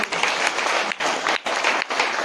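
An audience claps for the speaker's wife, a loud, dense burst of applause broken by a few brief dips, close and continuous throughout.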